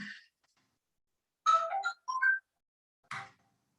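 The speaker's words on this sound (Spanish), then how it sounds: "Voy a atender el teléfono." A telephone rings with a bright electronic melodic ringtone in short chiming bursts separated by silence, clear and nearby, with no voices over it.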